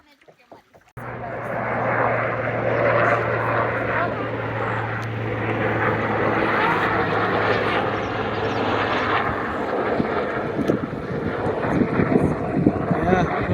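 A propeller-driven firefighting airplane passes low over a lake on its way to a wildfire, a loud, broad engine roar that holds steady and close throughout, with wind buffeting the microphone.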